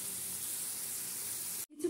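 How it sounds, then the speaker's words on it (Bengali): Tomatoes fry with spices in a pan for a silver carp fish curry, giving a steady, dense sizzle and hiss that runs evenly before cutting off abruptly near the end, with a brief clatter afterward. "টমেটোগুলো দিয়ে একটু মশলার সাথে ভালো করে কষিয়ে নিব"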